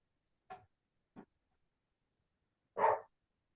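A dog gives a few short, sharp barks with gaps of silence between them, the last one the loudest.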